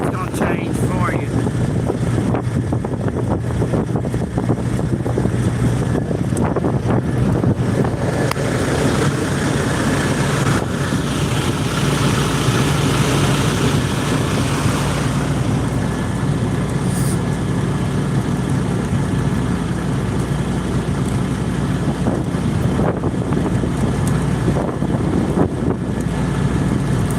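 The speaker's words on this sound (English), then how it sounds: "Engine fans on." Engine fans running loudly, a steady roaring broadband drone that continues unchanged throughout, close and dominant, with a storm setting suggested by the surroundings.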